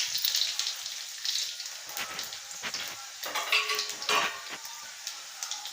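Fennel seeds sizzle and crackle in hot oil for duck curry, a steady close frying hiss with scattered pops and ticks and no talking.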